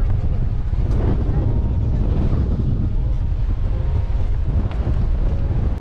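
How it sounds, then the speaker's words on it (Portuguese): Strong wind gusts over a beach beside a dark, rough sea, buffeting the microphone with a loud, constant low roar that swells and dips slightly, while distant surf mixes underneath. "O vento tá quase me tomando aqui de cima dessa"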